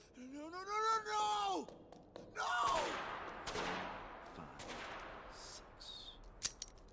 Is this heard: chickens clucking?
no